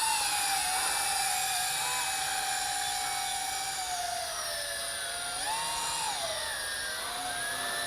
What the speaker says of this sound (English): she is a very stable copter